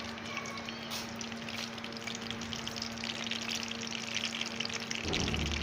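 Green chillies frying in hot oil give a steady, dense sizzle with a faint hum behind it. The crackle swells slightly toward the end, close and unbroken, with no talking.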